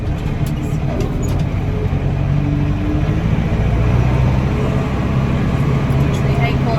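Vehicle rolling along a road near a leased rural property, a steady low engine and road rumble throughout, with someone talking over it.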